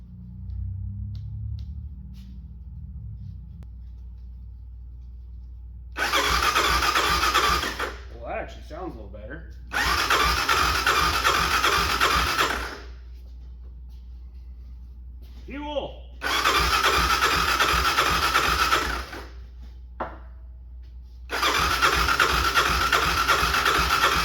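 A Honda Big Red ATV engine cranks in four loud bursts of rapid chugging without catching, separated by pauses, over a constant low hum, with a person talking between attempts.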